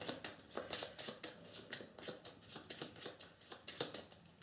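Cards from the zombie board game After the Virus are shuffled by hand, a quiet run of quick rhythmic riffling snaps repeating steadily for several seconds.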